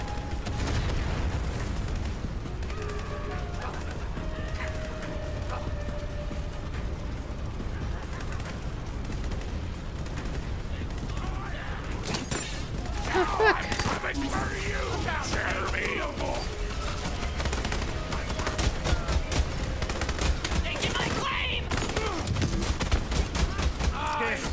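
Enemy gunfire in Borderlands 3 crackles in dense, overlapping volleys throughout, growing louder and busier in the second half, mixed with explosive booms and mechanical clatter, with a voice talking over parts of it.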